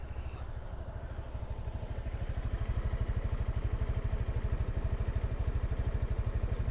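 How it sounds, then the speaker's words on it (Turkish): An RKS Pride 125 motorcycle exhaust idling up close, a steady low, rapid pulsing putter that grows slightly louder and more pronounced after a few seconds. "Şimdi egzoz sesimize bakalım."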